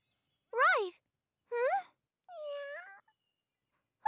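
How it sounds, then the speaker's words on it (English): A cartoon kitten in a Robocar Poli episode meows three times in clear, separate, rising-and-falling cries. The cries sound close and stand alone against silence, and a fourth cry starts just at the end. "So, Cleany, you found this kitty this morning after you were done cleaning up"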